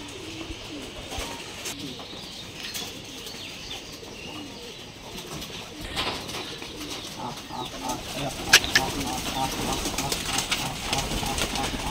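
Pigeons coo at a Giribaj pigeon farm, many birds perched together on a tin roof, with soft cooing and occasional wing flaps under a busy outdoor background and some human voices.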